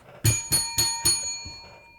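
A bright bell sound effect rings four times in quick succession on a podcast, each strike clear and ringing, then fading out.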